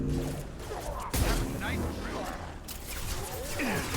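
Gunfire aimed at a Krogan in Mass Effect 2, a spread of shots under steady talk and game effects, fairly close but partly masked by the voice.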